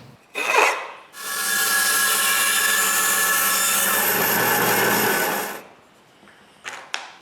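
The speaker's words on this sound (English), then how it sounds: "With the blade in place, I can mark the notch I have to do on the block and cut it." A power saw cuts a notch into an apple wood block, giving one loud, sustained, rasping whine of about four seconds that starts abruptly and then winds down. Faint clicks and handling noises come before and after it.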